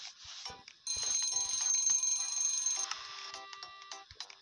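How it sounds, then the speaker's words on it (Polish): An electronic bell rings in the mobile cooking game Papa's Cluckeria To Go. It is a bright, sustained ring lasting about two seconds, set among quick, clicky game effects before and after it. "Jak dzwonek dzwoni."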